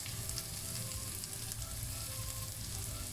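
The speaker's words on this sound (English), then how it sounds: "Fry until the onion turns a little bit translucent." Onion fries in a pan with a dense, continuous sizzle and crackle, fairly close and steady throughout, with no voices.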